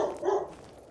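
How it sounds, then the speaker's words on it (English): A dog gives a single short bark somewhere in the room, a brief muffled yelp at moderate distance. "Sorry about the barking dog."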